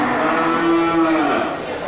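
A cow gives one long, loud, low moo that swells and fades, close by at a cattle yard selling large cattle and Bali cattle in Aceh, with a faint din of activity around it.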